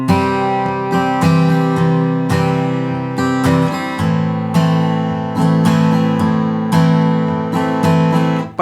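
A piano plays a simple progression moving between a major chord and its relative minor, with sustained, ringing chords struck about once a second, loud and clear with no voices.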